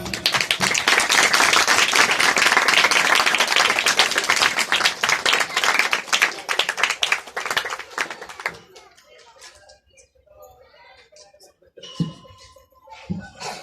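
Crowd applause at an ordination ceremony rings out full and steady, then fades away, leaving faint scattered claps and quiet room sounds.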